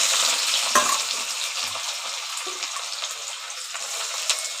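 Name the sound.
chopped onions frying in hot oil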